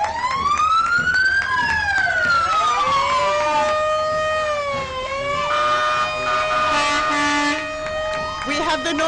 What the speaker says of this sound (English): We have the noisy South Newfane second truck here. Competing in noise with the Newbrook Fire Department.